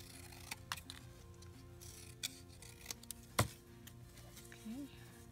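A paper strip being cut with scissors at a desk: a few crisp snips and clicks spread out and quiet, with soft rustling between them in a hushed room.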